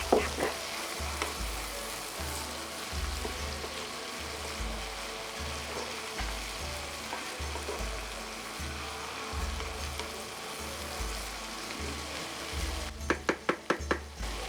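Food for letna mandza, a traditional summer stew, fries in oil with a steady close sizzle and soft stirring thumps, then a few sharp pan knocks near the end; nobody speaks.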